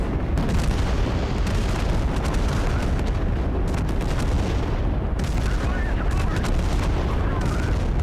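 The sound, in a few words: rocket fire and explosions in the video game Total Conflict: Resistance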